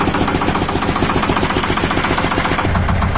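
A Shifeng 240 mini tractor engine running close up, a loud, steady, rhythmic diesel chug with a pulsing beat that shifts slightly near the end.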